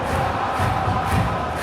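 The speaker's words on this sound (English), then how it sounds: "Crowd appreciates good football all round there." A stadium crowd in PES 2025 keeps up a continuous, even roar of appreciation during a Persijap Jepara versus Persib Bandung league match, with no voices standing out.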